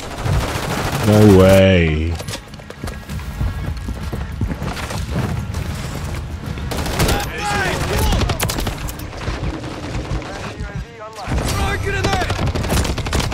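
Gunfire in a Call of Duty Modern Warfare 3 multiplayer match: a burst of rapid shots up front, then scattered firing and game effects underneath continuous talk from players.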